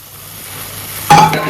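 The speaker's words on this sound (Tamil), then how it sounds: "இப்ப எறா போட்டுடலாம்." Large prawns drop into a hot pan and burst into loud sizzling frying with stirring, after a quieter stretch of low background noise; the hiss stays steady to the end.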